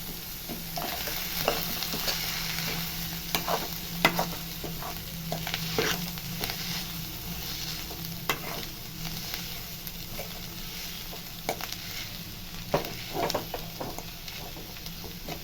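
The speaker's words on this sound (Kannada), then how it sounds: "ಫಿಶ್ನ ಮೊಟ್ಟೆ ಹಾಕ್ಕೊಂಡ್ಮೇಲೆ ಅದನ್ನು ಒಂದ್ಸಲ ಫ್ರೈ ಹಾಕ್ಕೊತಿದ್ದೀನಿ" Fish eggs fry in a pan with a low steady sizzle, broken by scraping and stirring sounds from a utensil, close and continuous with no talking.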